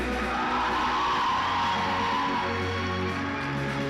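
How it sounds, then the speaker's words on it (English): A school alumni association inauguration crowd cheers loudly with whoops and yells at a logo reveal, a dense and steady roar of voices and clapping with a tonal backing underneath. "Let's keep that applause going."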